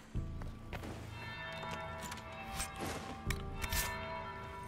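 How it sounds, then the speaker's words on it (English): A bell tolls in a ballroom setting in Dragon Age: Inquisition, its ringing tones sustained under background music with a few soft step-like thuds, moderately loud and steady throughout. "That's the bell."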